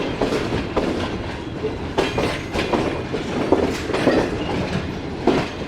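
A relief train from Faisalabad on a Pakistani railway line rolls past, a loud steady rumble with rhythmic clickety-clack of wheels over rail joints and occasional sharper knocks, heard close without any talk.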